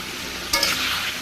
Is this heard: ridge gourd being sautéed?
yes